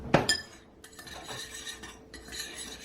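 A utensil stirs a ginger and cinnamon spice mixture in a bowl for banana muffins, opening with a bright clink against the bowl and then light, irregular scraping and tapping for a few seconds.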